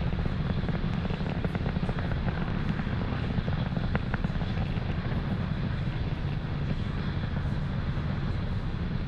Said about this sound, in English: You just saw their Falcon 9 transitioning to faster than the speed of sound.